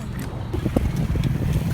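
A horse's hooves clop in a steady walking rhythm as it pulls a kalesa carriage along a smooth road, with soft thuds partly buried under low rumbling road and wind noise.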